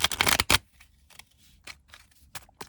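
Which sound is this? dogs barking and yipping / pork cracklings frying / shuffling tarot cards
shuffling tarot cards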